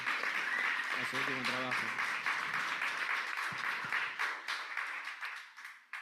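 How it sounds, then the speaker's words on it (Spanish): Audience clapping at a panel session on ecosystem regeneration, honoring a prize-winning panelist; a wash of applause runs under someone speaking Spanish and fades out toward the end. "pide un aplauso"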